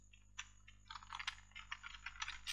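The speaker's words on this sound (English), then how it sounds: "you just have to type it in and hit enter" Soft, close clicks of a computer keyboard as a terminal command is typed, a quick irregular run of keystrokes that grows denser toward the end, faint over low steady hum.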